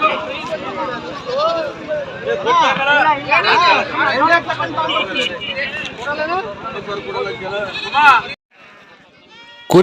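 Sheep bleat repeatedly amid a noisy crowd of voices and chatter at a sheep and goat market in Bhadravati, many animals calling at once, loud and close, before a brief drop-off.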